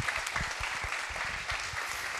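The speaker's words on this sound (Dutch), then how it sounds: "Mag ik een groot applaus voor Feike Siebesma." Applause for Feike Sijbesma at a Collegetour talk-show event, dense steady clapping from a studio audience filling the whole stretch without a break.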